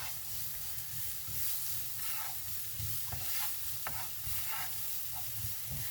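Chopped onion frying and being stirred in a pan, giving a steady soft sizzle with occasional scraping stirs, moderately quiet and close, with no talking.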